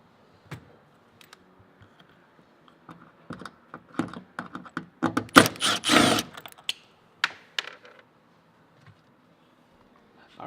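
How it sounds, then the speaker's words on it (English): Phillips screws being removed from an interior panel of a Ford Focus RS, sparse clicks and small ticking taps of a screwdriver and plastic trim, clustering into a busier burst of rattles midway before trailing off to quiet. "so we're going to go ahead and remove the Phillips."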